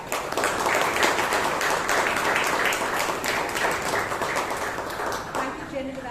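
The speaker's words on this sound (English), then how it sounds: "Let us give a huge round of applause for ourselves for taking that step to improve in our lives." A Toastmasters meeting crowd in Bangalore applauds together, a thick, even wash of many hands clapping close and loud throughout, with faint talk beneath, easing off toward the close.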